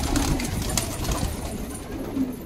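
Soft pigeon coos sound faintly in the background, a couple of low murmuring calls spread across a quiet moment.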